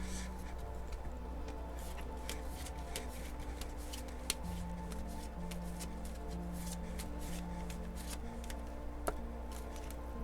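Fortune reading cards are shuffled continuously for about ten seconds, a close, steady patter of riffling and flicking card edges with no voices.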